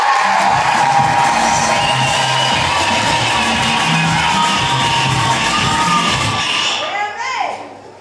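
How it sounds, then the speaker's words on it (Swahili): Wedding guests applauding and cheering in a crowded hall, loud dense clapping with shouts and whoops that fade toward the end. "Mpigieni makofi kwa hilo."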